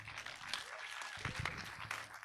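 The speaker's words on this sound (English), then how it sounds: "Give them a round of applause." An audience applauds for youth leaders and beat makers at a live event, a burst of clapping mixed with crowd noise and scattered cheers, moderately loud and continuous for a couple of seconds.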